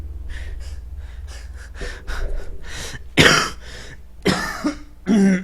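A person coughing repeatedly at close range, a series of short, harsh bursts with breaths between, the last few louder and more forceful.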